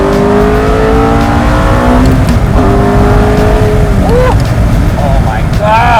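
A gated manual Ferrari pulls hard, its engine note climbing loud and close through the gears with brief dips at the shifts, heavy wind and road roar beneath, a voice speaking over it.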